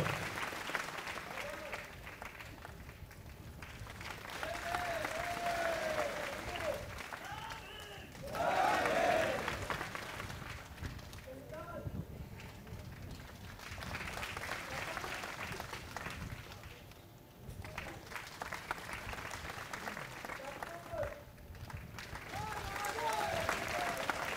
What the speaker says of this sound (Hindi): इनके लिए जोरदार तालियां बजाते रहो, खड़े होकर बैठते रहो।